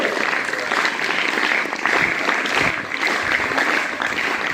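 An audience applauding at a commemorative birth-anniversary event, continuous dense clapping with a few stronger surges, steady and fairly loud throughout.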